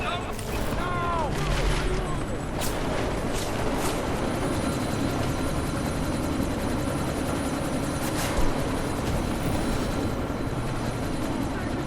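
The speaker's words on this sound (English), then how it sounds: "That chopper's about to take off." A helicopter in the video game Deus Ex: Mankind Divided roars steadily as it prepares to take off, its rotor noise constant and loud, with scattered bursts like gunfire and some game voices mixed in.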